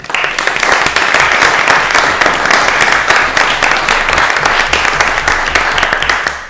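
Sustained applause from the audience at a city board of aldermen meeting, dense steady clapping that fills the room for several seconds with no talk over it.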